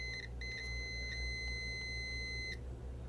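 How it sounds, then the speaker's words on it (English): Faint electronic beeping from a multimeter continuity test on control-panel float switches: a few short beeps followed by one sustained high beep lasting about two seconds, over a low background hum. "the meter will have a continuous beeping sound."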